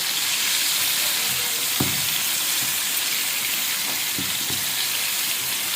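Chicken wings frying in hot oil, KFC-style, give a steady broadband sizzle throughout, with a few soft clinks and scrapes as a fork and spoon turn the pieces over.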